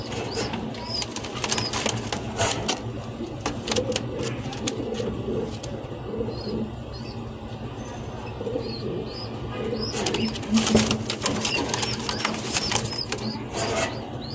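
Pair of grizzle runner pigeons in a loft, cooing and calling softly with occasional wing flaps, alongside steady background noise and other birds chirping.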